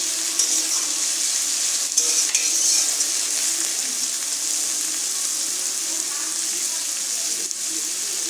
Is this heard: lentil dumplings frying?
yes